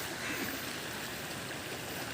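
Strong floodwater rushes under a bridge in a steady, dense roar, constant and close without pauses or voices.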